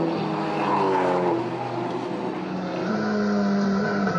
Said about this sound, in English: In car now with Michael Van Rooyen in the Toyota Gazoo racing car, and this is real hold on by the seat of your pants stuff.